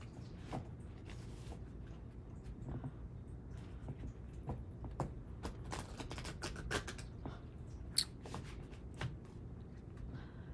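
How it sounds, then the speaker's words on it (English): Tarot cards being shuffled by hand, a soft continuous riffling and patter with small ticks and taps, close by and fairly quiet, with no talking. "One more shuffle for me, and I'll pass this to you to shuffle and cut"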